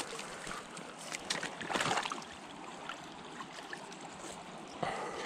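A strong river current flows fast during spring trout fishing, a faint, steady rushing and gurgling of water, with brief splashy bursts, heard up close and alone.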